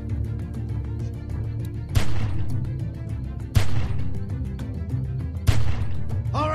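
Gunfire in The Walking Dead: 400 Days video game, with three sharp, loud shots spaced about two seconds apart over a steady droning game soundtrack.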